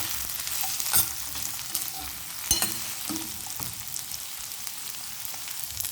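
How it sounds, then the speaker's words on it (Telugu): Continuous sizzling as dry coconut, green chili, ginger and garlic fry in a pan, close and steady, punctuated by occasional spatula scrapes and taps, with no talk. "ఎండు కొబ్బరి, ఒక పచ్చిమిర్చి, అల్లం వెల్లుల్లి వేసుకొని వీటిని కూడా ఫ్రై చేసుకుందాము."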